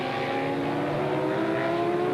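A Kawasaki endurance racing motorcycle at the 1997 Bol d'Or, its engine howling at high revs as it overtakes other bikes, a loud sustained whine that rises slightly in pitch.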